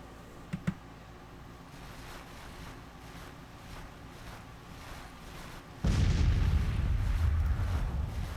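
Artillery fire in the Civil War strategy game Grand Tactician, a couple of faint early thumps under low ambient noise, then a sudden loud sustained rumbling roar of guns that continues to the end.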